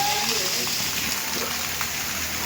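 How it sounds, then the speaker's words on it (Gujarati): Heavy monsoon rain in Ahmedabad pours down in a dense, continuous hiss with a faint patter on surfaces, loud and steady throughout. "ફૂલ વરસાદ ઉતાર પડે છે"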